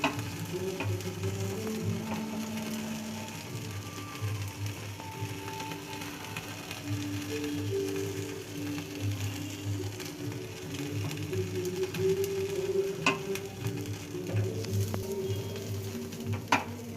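Tandoori chicken pieces brushed with butter sizzle and crackle in a hot pan over a high flame, a steady, fairly quiet frying hiss with occasional sharper pops and stirring scrapes.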